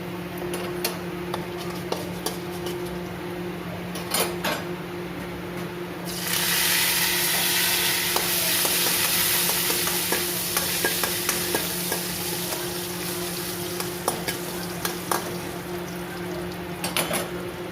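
Fenugreek seeds and curry leaves frying in hot oil, with a steady crackling sizzle and light stirring ticks. A sharp, loud hiss erupts about a third of the way in as the leaves hit the oil, then gradually settles.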